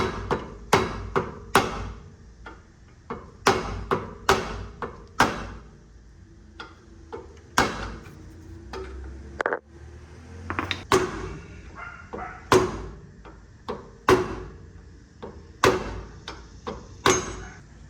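Repeated sharp metallic taps of a hammer striking a flathead screwdriver during a rear brake pad replacement on a 2012 Jeep Wrangler, irregular blows in quick clusters with short pauses, close and fairly loud.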